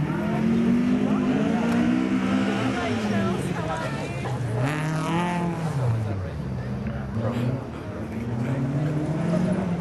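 A Datsun Stanza rally car is driven hard on a dusty stage at the 2010 Coffs Harbour classic rally, its engine revving up and down in repeated swells as it is thrown around, with a commentator talking over it.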